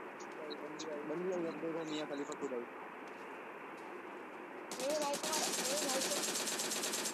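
Gunfire from PUBG Mobile, a drop shot in the mobile battle royale game, comes as rapid bursts of shots, one near the start and a dense volley toward the end, under excited talking.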